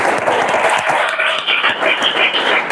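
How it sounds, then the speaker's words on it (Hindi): Students clap together in a classroom, a brief burst of dense, steady applause filling the room. "ताली बजाओ।"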